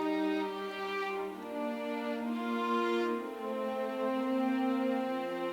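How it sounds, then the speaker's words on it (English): Smooth sustained strings play a slow, layered chord progression, washed in soft reverb that makes them sound distant and airy, with no voices. "I added some reverb to these, which is like air chamber for strings"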